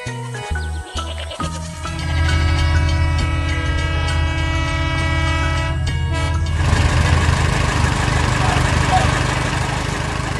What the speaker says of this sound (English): The train zooms by while the tractor keeps its steady pace.